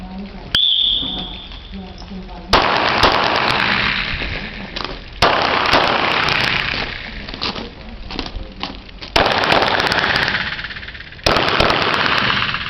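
Gunshots ring out at a shooting practice, about five loud, sharp reports spaced roughly two seconds apart, each followed by a long echoing tail, with a brief whistle tone just before the first shot.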